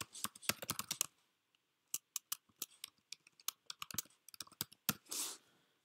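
Rapid clacking of a computer keyboard, alone and close: bursts of quick keystrokes with short pauses between, ending in a longer soft swipe.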